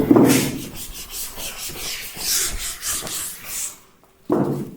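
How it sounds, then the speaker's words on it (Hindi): Eraser or duster rubbing across a board while a chemistry lesson on carbon compounds is taught, a steady scrubbing swish of several strokes that stops briefly near the end and then resumes. "यहां से इसे रब कर देता हूं"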